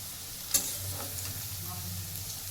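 Onions frying in oil with a steady soft sizzle, one brief clink of a utensil near the start.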